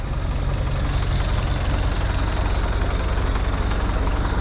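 A tractor engine pulls a plough during autumn ploughing, giving a steady, loud, low diesel drone with an even rumble and no break, recorded close by.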